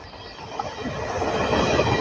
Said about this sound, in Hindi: महाराजा एक्सप्रेस चोला रेलवे स्टेशन को स्किप करते हुए ओवरटेक कर रही है देख लीजिए